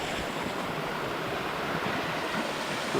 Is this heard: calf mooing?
no